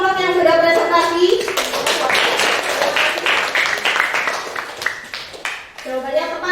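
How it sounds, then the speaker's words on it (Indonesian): Classroom applause for a group that has just presented, with children clapping together in a dense burst for several seconds, framed by a teacher's voice at the start and end. "Tepuk tangan untuk kelompok yang sudah presentasi."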